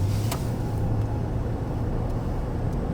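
The engine of a 1984 Buick Riviera drones low and steady from inside the cabin while driving, a quiet continuous rumble with road noise and no talking.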